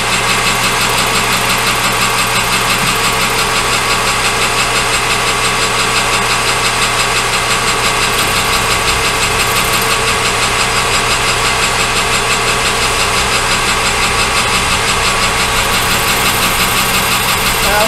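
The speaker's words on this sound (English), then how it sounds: "I just took it over to my little Harbor Freight bandsaw." A small Harbor Freight bandsaw cuts through metal stock, giving a continuous loud motor hum and steady grinding drone that holds evenly for the whole stretch without pauses.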